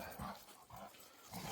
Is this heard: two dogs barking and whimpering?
yes